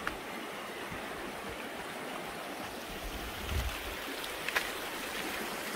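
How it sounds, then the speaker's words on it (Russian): A fast-flowing mountain creek in winter snow rushes steadily, a soft, constant broadband wash of water heard from a short distance with no talk. "Речка горная, вода течет достаточно быстро."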